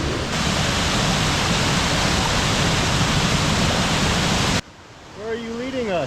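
A rainforest waterfall pours in a loud, steady broadband rush close by, then cuts off abruptly near the end, leaving a quieter scene where a person speaks.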